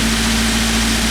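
A Toyota Avanza EFI engine idles with its speed set too high, above 1000 rpm, giving a steady, loud mechanical hum with a strong constant tone and low rumble, heard close up with no talking.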